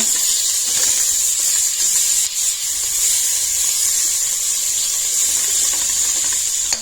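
Jackfruit pieces browning in a generous splash of oil in a pan, giving a steady, even frying hiss that runs unbroken throughout, fairly close and with no talking.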